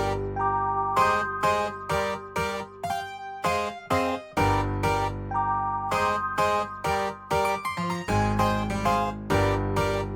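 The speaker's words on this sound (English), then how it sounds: "we're gonna have a low piano that's just playing in the background. Sounds like this." A low piano for a 2000s R&B beat plays short repeated chords in a bouncy rhythm, loud and close with sustained low notes underneath, heard alone with no talking.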